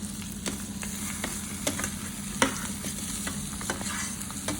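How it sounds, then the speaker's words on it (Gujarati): Spiced mashed potato samosa filling being stirred in a hot frying pan, with a steady sizzle and repeated scraping strokes of the spoon, close and alone. "આપણે મસાલાને બરોબર હલાવી નાખ્યો છે"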